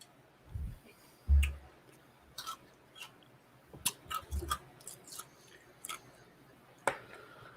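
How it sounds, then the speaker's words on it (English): Someone eats asparagus wrapped in bacon, making scattered close chewing and biting clicks with soft squishy bites and quiet pauses between them, and no talking. "Who's eating? What are you eating there?"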